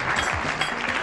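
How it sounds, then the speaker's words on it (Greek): Brief burst of TV studio audience applause on a Greek entertainment show, steady dense clapping that fills the whole moment at close, even loudness. "Βραβείο παίρνω, χειροκρότημα,"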